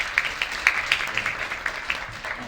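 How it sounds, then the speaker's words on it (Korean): Scattered, sparse clapping from a small audience at an arts council talk on theatre and XR, a handful of distinct claps at moderate distance with no talk over them. "큰 박수 부탁드리겠습니다"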